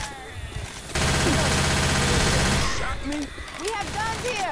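Dense, loud bursts of automatic gunfire in the zombie shooter game Left 4 Dead 2, sustained for a couple of seconds, with players talking over the game audio before and after.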